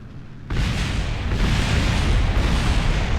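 A Kerbal Space Program rocket blasts off with a sudden roar after a brief quieter lead-in, then a loud, continuous rumbling thrust for the rest of the clip.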